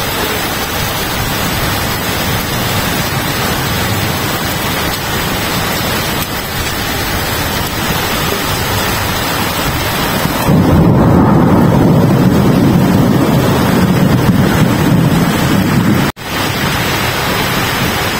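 Heavy rain and floodwater in Qatar, with water pouring through a street where a car's wheels sit submerged; a steady broadband wash of rain and rushing water, louder and heavier in the second half, with no talk.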